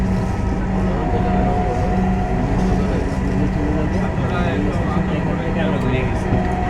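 Riding a metro rail train in Dhaka between stations near Shahbag, with a steady loud low rumble and hum of the carriage in motion, continuous and close, with faint higher mechanical whine.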